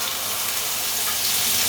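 An omelette fries in a hot pan with a steady, loud sizzling hiss that runs without a break for the whole stretch.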